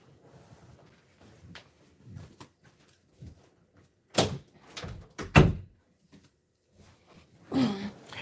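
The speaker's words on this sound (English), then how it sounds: "let me close my door." A door being shut indoors, several soft bumps and handling noises followed by a couple of sharp close thuds, with a further knock near the end amid quiet surroundings.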